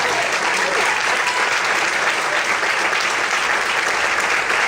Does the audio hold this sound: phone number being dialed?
no